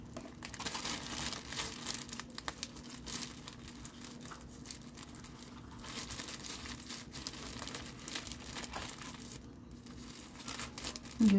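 Plastic packaging crinkles and rustles almost without pause while scissors cut into it during the unboxing of a pajamas order, steady and close, with no voices.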